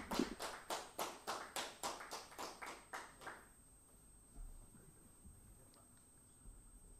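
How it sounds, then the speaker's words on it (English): Audience applause at a product launch event, heard as a series of about a dozen distinct rhythmic claps or taps in the first half, then dropping away to quiet room noise. "please do welcome him with a huge round of applause"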